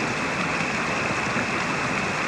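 A small mountain stream rushes steadily beside an old coal mine road, a dense, even wash of water that holds at the same level throughout with no voices.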